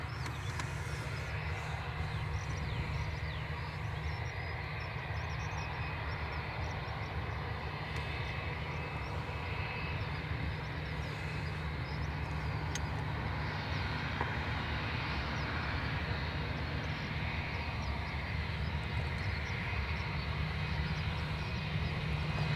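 Delta Boeing 767-400 on its takeoff roll from runway 28 right at Dublin Airport, a steady, distant engine roar that holds broadband and constant throughout with no voices.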